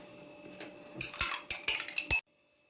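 A spoon clinks and scrapes against a bowl while stirring yogurt, sugar, baking soda and other liquid ingredients for homemade Turkish anne kurabiyesi cookie dough, making a cluster of close, sharp taps before falling silent.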